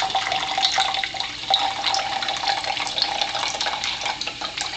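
Water from a countertop water ionizer pours steadily into a sample container, a continuous close splashing stream that fills the clip without speech.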